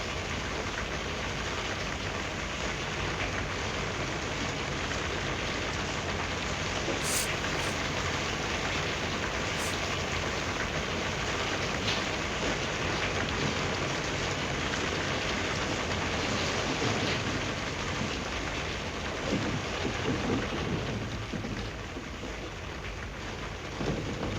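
Steady, dense rain falling continuously at moderate level, with a constant hiss of drops on surfaces and no voices.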